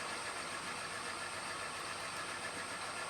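A milling machine cuts with a half-inch (12–13 mm) end mill at roughly 650–700 RPM while shaping a copper pipe clamp, giving a steady, close mechanical hum with a faint whine and no talking.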